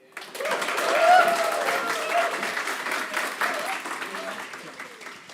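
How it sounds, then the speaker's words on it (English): An audience at a gala event applauds, a moderately loud wash of clapping that swells early and then holds with crowd murmur and faint voices mixed in. "So please have a round of applause to none other than Ville Eloranta."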